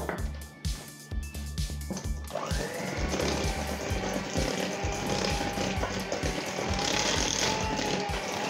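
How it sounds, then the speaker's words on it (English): An electric hand mixer beats orange loaf batter in a bowl, a loud, close mechanical whir with rattling beaters that steadies into a continuous droning hum. "I'm going to use the electric mixer"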